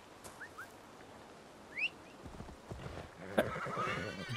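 A horse in the Assassin's Creed Valhalla video game gives a short whinny amid chirping birds, followed by soft clip-clopping hooves and a louder snort or thud near the end.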